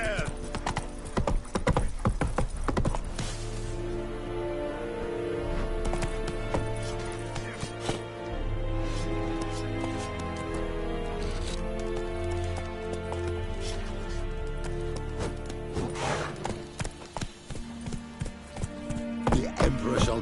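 A horse gallops in The Witcher 3: Wild Hunt with a continuous, close clip-clop of hooves, a whinny breaking through, and game music and ambience running underneath.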